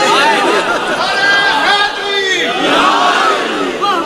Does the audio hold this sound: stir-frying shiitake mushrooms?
no